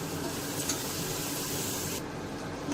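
Tomatoes with turmeric and salt sauté in a pan for fish kulambu, giving a steady, close hissing sizzle with soft scraping that eases slightly toward the end.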